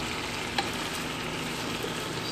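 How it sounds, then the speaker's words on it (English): Steady, soft sizzling of chicken frying in its own oil in a pan, a continuous crackle with no talking. "Now I'm frying the chicken"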